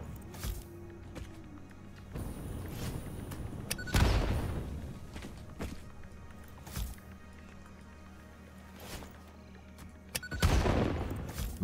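Gunfire in the game Satisfactory using explosive turbo fuel ammunition: scattered sharp shots and a few heavier booming blasts spread over the stretch, with a low steady hum beneath.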